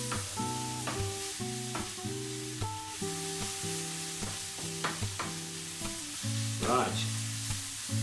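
Beetroot leaves and red onions sizzle steadily in a hot pan, a close, continuous frying hiss punctuated by repeated clinks and scrapes of stirring, with no talking.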